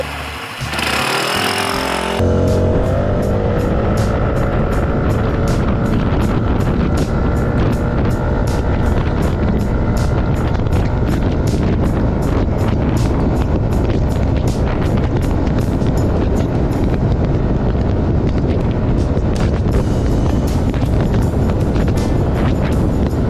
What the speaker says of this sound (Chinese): 我们等一下会来测这台 KRV 它的加速性，好，0到400有什么样的状况